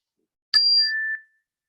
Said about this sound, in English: Now I'll play a bell just as a gentle reminder to come to this moment right now.